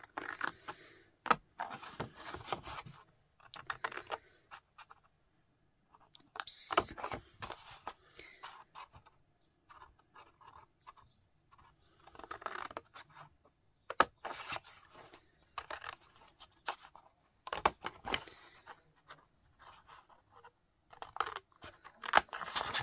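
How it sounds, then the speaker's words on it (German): Scissors snip into the fold lines of a paper hexagon gift pouch in short, close bursts of crisp cutting separated by pauses, with faint paper handling and no talk. "Und dann schneiden wir alle Falzlinien ein bis zu der Falz hier, wo wir 4 cm gefalzt haben."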